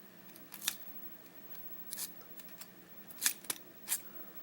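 A control key turning in an SFIC lock gives several sharp metallic clicks and snaps, some close together, against a quiet room.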